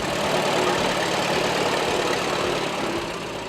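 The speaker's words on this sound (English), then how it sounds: "This is a 1919 Advanced Rumley. The tractor is a 2-cylinder kerosene" A 1919 Advance-Rumley two-cylinder kerosene tractor engine running at a fair, loud and close, with a dense steady mechanical roar and no talk.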